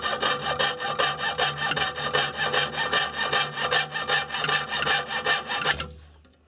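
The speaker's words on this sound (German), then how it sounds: "jetzt nehme ich einfach hier eine Laubsäge und säge ohne Druck" A hand fretsaw cuts holes in a lab power supply case, a loud, steady, rhythmic back-and-forth rasping of about four strokes per second that stops abruptly near the end.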